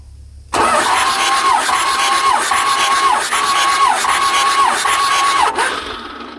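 A 1995 Dodge Ram 2500 engine cranks over on the starter during a compression test, a loud, close, rhythmic whirring with six even compression pulses, then stops abruptly.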